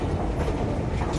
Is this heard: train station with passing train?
yes